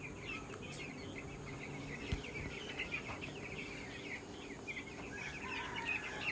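A flock of about two hundred ten-day-old broiler chicks in a farm shed, with dense, continuous high peeping and chirping at a low, steady level.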